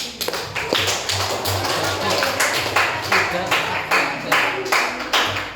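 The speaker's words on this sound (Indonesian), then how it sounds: "tepuk tangan untuk kita." Schoolchildren in a classroom clap together in a quick, patterned rhythm, with sharp repeated claps running the whole time and voices mixed in.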